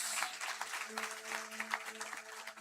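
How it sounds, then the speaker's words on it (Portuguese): Church congregation applauding during a service, a quiet, distant patter of many hands with a low steady hum underneath. "Aplauda ao Senhor mais uma vez, glória a Deus"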